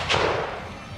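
Single sharp firearm shot at a medieval festival reenactment, a loud close thump with a brief bright crack, then a lingering rumble and crowd murmur as it fades.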